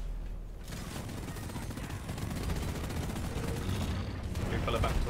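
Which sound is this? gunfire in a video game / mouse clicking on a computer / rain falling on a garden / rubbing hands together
gunfire in a video game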